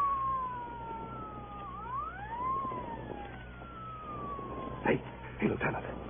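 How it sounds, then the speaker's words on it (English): A police car siren in an old-time radio drama wails in rising and falling sweeps over a steady background hum, followed by a few sharp knocks near the end. "What chowderhead was stupid enough to use his siren?"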